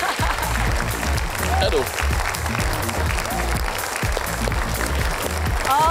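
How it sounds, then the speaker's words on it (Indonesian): Loud, sustained studio audience applause and cheering welcoming a guest onto an Indonesian talk show stage, a dense steady wall of clapping with voices calling out over it throughout. "langsung saja kita berikan sambutan yang paling meriah"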